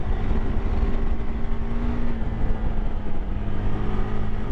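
A KTM 390 Adventure motorcycle pulls away after a quickshifter gear change, its engine droning loud and steady in a continuous rising hum with wind noise and no gaps.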